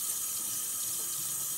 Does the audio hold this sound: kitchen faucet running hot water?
yes